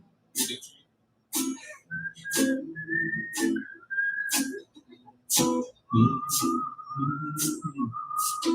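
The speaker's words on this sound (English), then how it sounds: "I didn't think I'd get people to whistle along to that song" An open mic audience whistles a melody together over rhythmic strummed chords, the whistled notes holding steady pitches between strong percussive beats.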